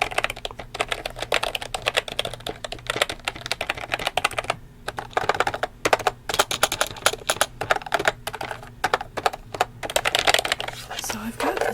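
Rapid typing on a non-gaming computer keyboard in a game store setting, dense continuous clacking keystrokes close up with brief pauses, played alone.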